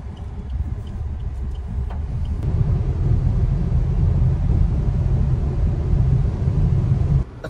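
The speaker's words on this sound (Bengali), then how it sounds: "আজকে বৃষ্টির মধ্যে মানে বিভৎস জ্যাম" Heavy traffic stuck in a jam during rain, heard from inside a vehicle as a steady low engine rumble and road noise that swells slightly and holds, with no talk.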